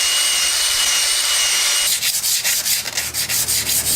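Scrubbing pad rubbing over a Dana Trac Lok 8.8 axle differential housing, a steady dense abrasive hiss that shifts into quicker, rhythmic back-and-forth strokes partway through, close and alone.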